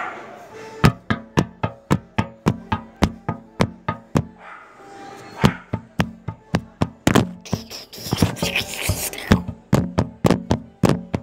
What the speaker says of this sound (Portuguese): Você vai bater na porta